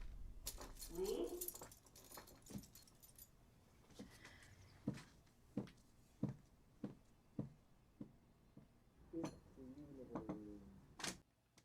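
A large bunch of keys jingles and clinks in a film scene, sounding as a string of separate metallic rattles spread across the clip, mixed with quiet voices and faint background sounds.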